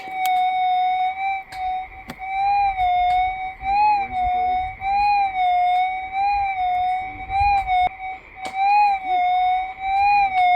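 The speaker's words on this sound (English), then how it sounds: "So I'll swing the detector at basically ground level so you can hear what it sounded like" A Garrett Axiom metal detector swung at ground level over a gold nugget gives a steady, loud electronic tone with brief pitch wobbles and a few sharp clicks repeating as the coil passes.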